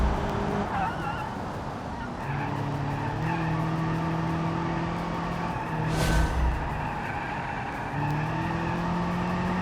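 Race car tires squeal at the limit in the BeamNG video game, a steady engine drone carrying tonal whines and screeches that swell and fade across the lap, with a brief sharper burst midway.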